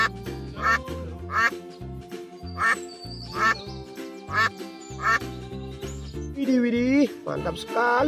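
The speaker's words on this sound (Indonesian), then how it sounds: "ini ada bebek." Repeated duck quacks pulse rhythmically over background music, with a person talking excitedly across them.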